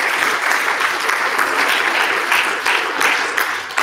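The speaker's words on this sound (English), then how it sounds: "Let's give him a round of applause as he's coming up." A live audience at a travel and tourism gathering applauds steadily as an artist walks up to the stage, a dense, even wash of many hands clapping close by with no pause.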